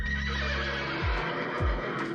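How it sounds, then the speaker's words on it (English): Frightened horses in the film Young Frankenstein neigh and whinny, giving two sharp descending cries in quick succession over a loud, sustained background. "the horses reared in fear, hooves in the air and ready to get out of here"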